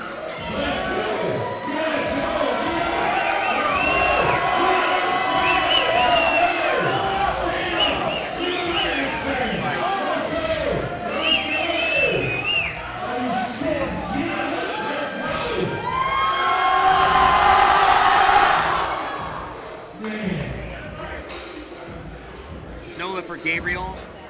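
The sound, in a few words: crowd cheering a deadlift national record attempt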